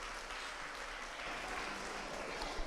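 Steady applause from an audience at a children's public-speaking contest in Gambia, honouring a contestant after her presentation, a fairly faint, even wash of clapping that holds through the short stretch without talk.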